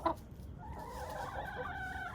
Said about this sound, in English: There's my two Polish hens.